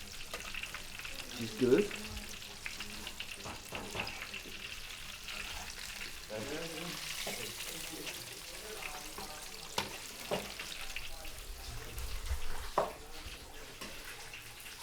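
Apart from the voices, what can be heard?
food sizzling while frying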